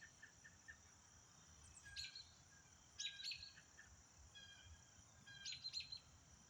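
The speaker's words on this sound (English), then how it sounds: "Hear that bird?" Outdoors, a bird gives short bright chirping calls in three separate bursts, quiet and somewhat distant over a soft constant insect hiss.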